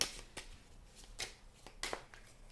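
Gypsy fortune-telling cards are shuffled close by in a few quiet, crisp riffling bursts separated by short pauses, with no talk.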